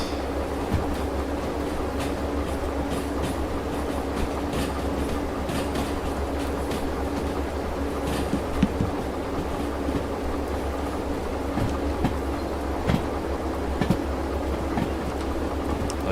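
A locomotive coasting in the Derail Valley train game with its cab door left open gives a loud, steady rumble and rattle of rolling wheels and clattering rails, running unbroken throughout with no talk.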